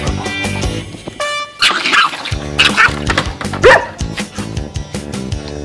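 Small dogs bark and yip repeatedly up close in quick excited bursts, some whimpering, loud against a background of music.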